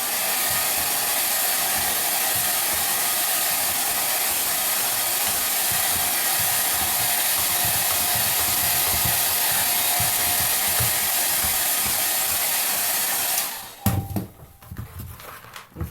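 A hair dryer blows a steady, loud rushing stream of air for about thirteen seconds, then cuts off, leaving a few faint handling clunks and rustles.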